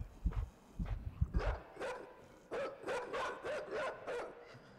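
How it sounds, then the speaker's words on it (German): A dog barking in the video game Inside, a run of short, moderately loud barks and yips at an uneven rhythm with no talk over them. "Oh, der Hund ist da."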